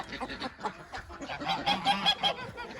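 Geese honking in a busy, overlapping chorus at a hobby poultry coop in Taşköprü, Kastamonu, several birds calling repeatedly close by, with a few fowl squawks mixed in.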